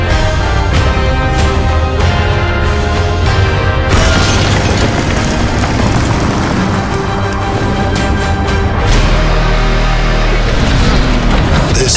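Loud, dense booms and bursts of tank combat in World of Tanks 1.0, with heavy low rumble running through the whole stretch and repeated impacts layered over music-like sustained tones.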